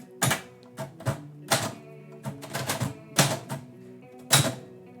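Manual typewriter being typed on in bursts, its type bars striking the platen with sharp, close clacks, some keys louder than others, with a faint extra mechanical rattle under the strikes.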